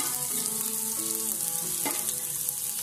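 Onion, ginger, garlic and green chilli frying in oil after mustard seeds have popped, a soft steady sizzle with a few light stirring clinks, close and faint, no voices.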